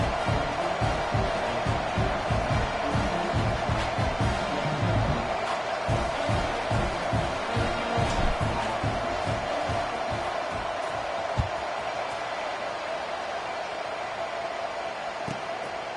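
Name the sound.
stadium crowd at SMU vs Mississippi State football game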